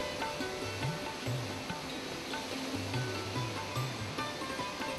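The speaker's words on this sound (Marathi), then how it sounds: "पांढरा शुभ्र फेसाळ आणि प्रचंड वेगवान असा हा धबधबा पर्यटकांना नेहमीच आकर्षित करतो" Randha Falls, where the Pravara river drops in three tiers, gives a steady, dense roar of falling water throughout, loud and continuous with no voices.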